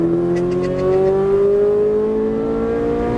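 A Ferrari 458 Italia engine on a track drones loud and close under light throttle, holding a smooth, steady tone that rises slowly in pitch.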